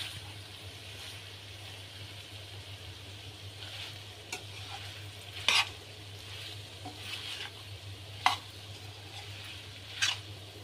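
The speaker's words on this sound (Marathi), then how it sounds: "तर हे छान असं परतून घ्यायचं आपल्याला." Chicken chilli being sautéed in a pan with soy sauce, a soft continuous sizzle with a few sharp spoon-against-pan scrapes and clinks, close but fairly quiet over a low steady hum.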